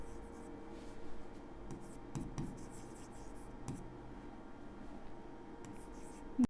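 A pen scratches steadily across paper while a maths problem is worked out, a soft continuous scribble heard close and quiet, with a brief knock at the end.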